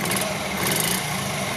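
A small 1981 Honda Gorilla Z50J minibike engine idles quietly and steadily, a faint, even running hum with a light high buzz, no voices over it.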